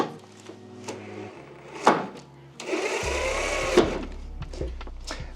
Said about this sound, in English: then basically we drill the hole